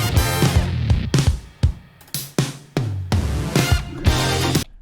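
A drum fill, a dense run of loud kit hits with repeated tom and kick strikes and brief gaps, played alone without talk.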